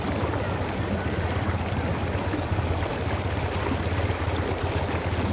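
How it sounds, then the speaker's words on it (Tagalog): A strong river current rushes steadily, a dense continuous wash of flowing water with a low rumble, close and loud throughout, no voices. "Ganun lakas sa agos, oh."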